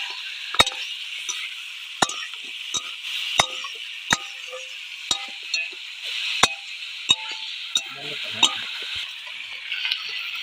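Bay leaf, tomato and onion sauté with meat spices in a pan, giving a steady soft sizzle broken by regular sharp scrapes and taps of a spatula roughly every second, close and clear.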